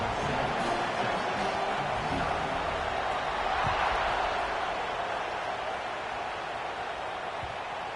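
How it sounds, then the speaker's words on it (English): A large stadium crowd at a Texas vs. Florida football game roars in a steady, dense wash of cheering and noise, with no clear pauses throughout. "Listen to the crowd energy here in the early going."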